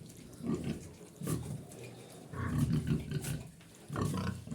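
A pig grunts close by in repeated low bursts, with short pauses between.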